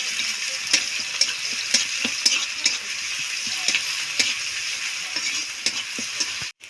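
Garlic sizzles steadily in hot oil in a pan, a continuous bright frying hiss broken by regular soft clicks and scrapes of stirring, close and fairly loud, with no talking.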